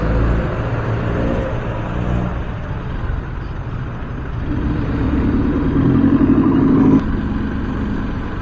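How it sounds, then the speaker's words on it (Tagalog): Road traffic of cars and motorcycles on a route toward Bulacan: a steady, loud engine drone and road rumble, with one heavier vehicle swelling nearer toward the end before a brief sharp sound cuts in. "Nako, ito na naman, may traffic na naman."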